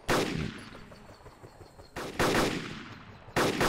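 Video game gunfire in a helicopter battle: loud, close bursts of rapid automatic fire, three separate volleys with rattling decay between them, no voices heard.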